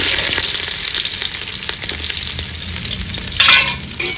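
Spices and onions dropped into hot oil for chicken pulao hiss in a loud, continuous close sizzle, with a sharper burst of crackle partway through and no voices.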